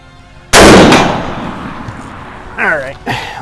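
A single loud, close shot from a 1923 Tula Mosin-Nagant hex receiver rifle chambered in 7.62x54R cracks and decays over about half a second, followed by brief speech afterward.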